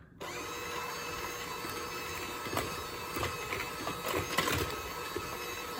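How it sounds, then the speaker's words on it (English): An electric mixer whirs at a lower speed through pancake batter for Indonesian martabak, a steady close mechanical drone with a few clattering knocks as the beaters hit the bowl. "I want to mix it again with a lower speed"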